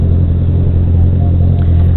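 A car passes close on the road, heard as a loud, heavy low rumble of engine and tyres that holds steady, with wind-buffeted microphone noise on a motovlog rider's helmet mic.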